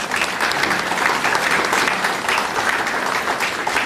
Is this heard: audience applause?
yes